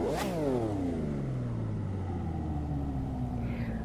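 A sports car engine in The Crew 2 racing game cranks and fires up with a sharp burst, then settles into a steady, loud idle rumble with a falling pitch as revs drop.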